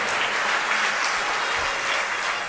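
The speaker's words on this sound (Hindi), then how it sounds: "तालियां आप बहुत कमजोर बजाते हैं" An audience at a religious discourse claps loudly and steadily, a dense wash of many hands filling the whole stretch without any voices.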